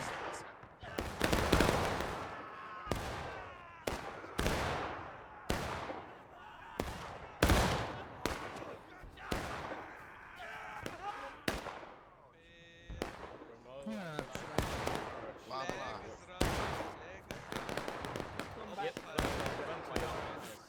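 Musket volleys in War of Rights on the Rocky Slopes conquest map, a 270-player battle: a steady run of sharp, loud cracks and scattered bursts, some near and some distant, with a commentator talking over parts of it.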